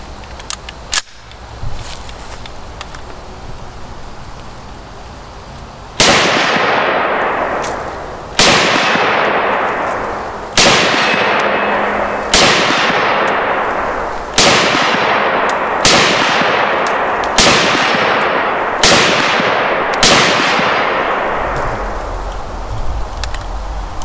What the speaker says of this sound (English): Okay, we'll let Fidel shoot it